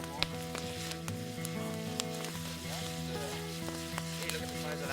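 Fish fillets frying in a pan for a lakeside shore lunch at a fishing lodge: a steady, soft sizzle runs through under a background of sustained tonal hum, faint and continuous with a few small pops.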